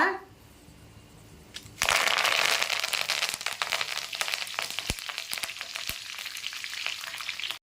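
A sudden burst of loud crackling sizzle as curry leaves hit hot oil in a pan, then continuous frying with scattered sharp pops.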